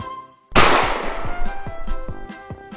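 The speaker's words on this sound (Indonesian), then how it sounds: "Suara tembakan yang kencang terdengar oleh burung merpati" A single loud gunshot effect in a narrated fable cracks out sharply after a brief quiet start, followed by a decaying echo and scattered clattering hits.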